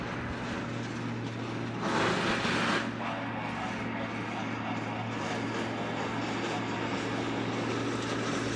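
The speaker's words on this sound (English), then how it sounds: "Next arrival on 8 left will be another Hawaiian coming in from Tokyo" A Hawaiian Airlines jet arriving from Tokyo roars steadily onto runway 8 left at Honolulu, with a louder surge partway through and continuous engine noise throughout.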